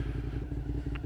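A Suzuki SV650 motorcycle on a test ride, its engine close and loud with a quick, rhythmic pulsing throb and light rattly clatter.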